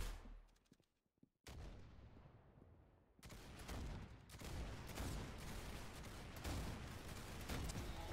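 Roblox gunshots ring out as sharp, loud cracks after a brief quiet stretch, followed by a steady series of repeated shots and blasts continuing to the end.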